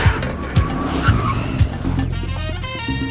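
Tires on a Firebird squeal during a car chase: several short screeches over a revving engine, ending in a long sliding skid, loud and close.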